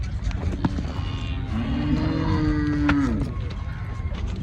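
A cow at a livestock market gives one long, drawn-out moo in the middle of the clip, clear against a busy background of crowd murmur and scattered knocks.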